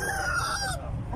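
An Aseel rooster calls once nearby at a market in Rawalpindi, Pakistan, a short harmonic squawk that bends downward and fades, over a low farmyard background.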